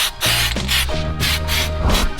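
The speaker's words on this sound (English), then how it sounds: "all it is just some spray paint. Good old rattle can job" Rattle-can spray paint hissing in short bursts, four or five loud close blasts of broad hiss separated by brief pauses, with a low hum beneath.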